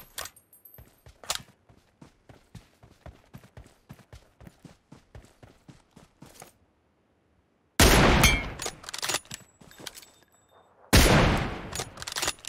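Rapid bursts of gunfire from the mobile shooter game PUBG Mobile crackle in a fast staccato string, then break into louder, denser volleys after a brief pause.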